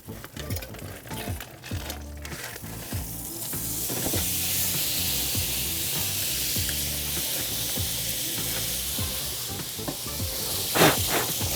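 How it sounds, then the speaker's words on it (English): Fat flaring and sizzling hard on a hot grill while a pork butt roasts, a steady loud hiss with crackles and pops running throughout, growing denser and brighter after the first few seconds. "Now that is a grease fire."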